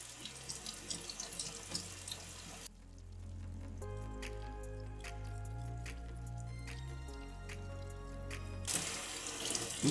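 A plate is rinsed under a running kitchen tap in a workshop, a steady close hiss of flowing water with splashing and dripping as the plate moves through the stream, the flow changing pitch partway through.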